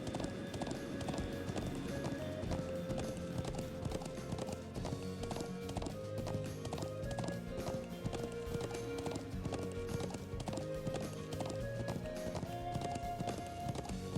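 Rapid rhythmic hoofbeats of a galloping horse in the video game The Legend of Heroes: Trails of Cold Steel, over a busy music and effects bed, steady and continuous.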